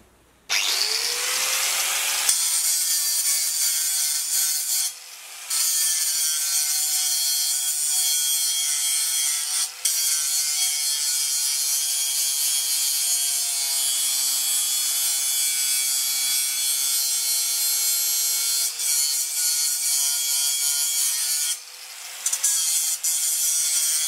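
A grinder removes excess weld from the underside of a piece for a stone fireplace, giving a loud, continuous high grinding whine with a few brief pauses across a long stretch.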